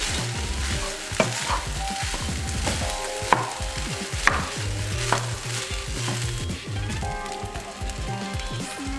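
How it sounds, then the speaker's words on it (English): Fried rice with soy sauce is stirred briskly in a hot pan. Crackling sizzle mixes with repeated scraping and clattering strokes of the utensil, close and busy, with no speech. "When I put soy sauce in, I like to zhuzh it around a lot until I decide that that's enough."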